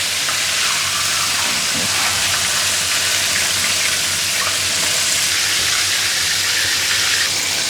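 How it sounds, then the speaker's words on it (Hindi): Chicken pieces for a KFC-style Zinger burger deep-frying in hot oil, a steady, dense sizzle and crackle that holds at an even level throughout with no talking. "तो दोस्तों इसको तकरीबन 7 मिनट हो गए हैं फ्राई करते हुए"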